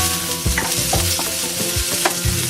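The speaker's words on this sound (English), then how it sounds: "If we cook garlic straight away on a high heat, it's fine." Garlic cooking over high heat in coconut oil, ghee or avocado oil as a base for a sweet potato dish, giving a loud close sizzle with bursts of crackle and stirring scrapes, and no voice.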